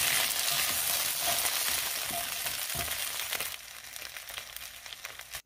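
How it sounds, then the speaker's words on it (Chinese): Taro and Chinese sausage stir-fried in a wok make a close, loud sizzle with scraping and tossing noises, easing to a quieter, crackling fry in the last couple of seconds, no voices. "都炒均匀啦。"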